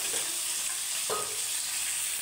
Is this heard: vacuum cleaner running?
no